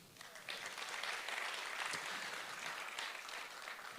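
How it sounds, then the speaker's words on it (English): A crowd at an Australian of the Year awards ceremony in Tasmania claps steadily in a dense, sustained round of applause filling the room, with no clear voices. "Another round of applause"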